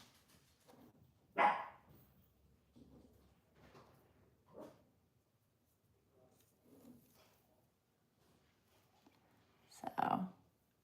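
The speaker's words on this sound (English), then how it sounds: "she's trying to decide how concerned to be in her bark right now" Indoors, a small dog gives scattered soft boofs to guard the house, a couple of sharper barks standing out among quieter muffled sounds and light household clicks.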